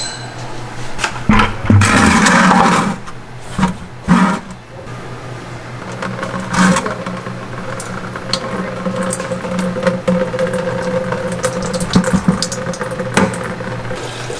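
Coolant drains from the radiator drain plug of a 1JZ-powered Mk3 Toyota Supra, a steady splashing pour into a pan with knocks and clunks early on, continuing for the whole stretch.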